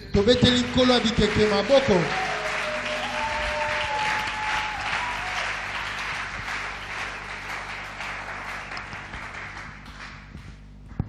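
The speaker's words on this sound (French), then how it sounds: "Vous savez, nous acclamons pour le Seigneur" A church congregation applauds and cheers during a service, a long steady wash of clapping from a large crowd under a preacher's voice and sung tones at the start, gradually thinning toward the end.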